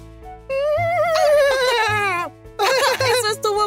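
A person imitates a horse's neigh with a high, wavering whinny, followed by a second shorter whinnying burst, close and loud, at an amusement park.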